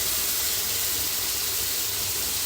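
Thinly sliced steak sizzles in a hot pan, a steady broadband hiss that holds evenly and loudly for the whole moment with no voices over it.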